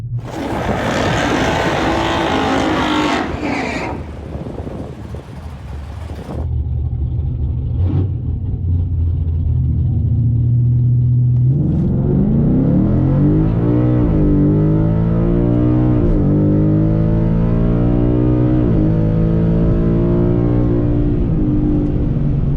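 A 2020 Ford Coyote V8 running E85 with a 10R80 transmission at a drag strip: a roaring burst up front, a quieter idling rumble, then a long rising engine run climbing through the gears, loud and close.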